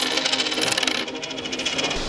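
Coins dropping and clattering together, a busy cluster of bright metallic clinks over about two seconds, close and alone with no voices.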